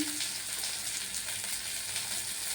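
Spices frying in hot oil in a pan for a potato curry, a steady close sizzle with a soft hiss that stays even and continuous throughout.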